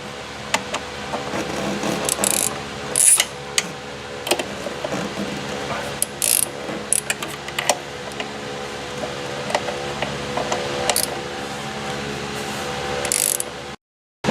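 A ratchet wrench loosens the 10mm bolts on a car's throttle body, with repeated bursts of clicking that come close and clear, broken by short pauses and the clink of metal parts.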